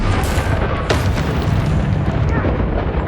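A loud fiery blast from the Incendio fire spell in Hogwarts Legacy, a sharp burst near the one-second mark that rolls into dense crackling roar over constant game noise.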